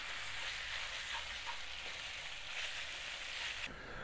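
Beef sizzles steadily in a Lidl wok, a dense, close crackling hiss that runs unbroken and cuts off abruptly near the end, with no talking.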